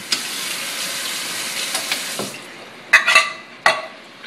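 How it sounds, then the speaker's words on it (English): Water from a can poured into enchilada sauce in a pan, giving a steady close hiss and splash for about two seconds, followed by a few sharp clinks and scrapes of stirring. "we're going to add about half a can of water"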